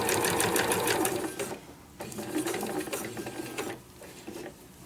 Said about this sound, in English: I'm taking just a little bit larger stitch as it's going through these layers.